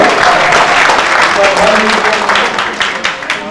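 Audience applause at a Rajasthani Hasya Kavi Sammelan poetry gathering, loud sustained clapping across the clip, thinning slightly toward the end, with a voice audible over it.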